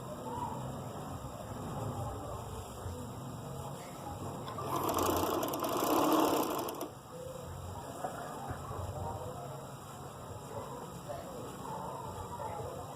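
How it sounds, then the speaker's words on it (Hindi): A sewing machine stitches a sleeve onto a shirt in a steady whirring burst of about two seconds, rising above a background of bird calls, with quiet room noise before and after. "मैंने सिलाई स्टार्ट कर दिया है बाजू अटैच करने के लिए शर्ट पर।"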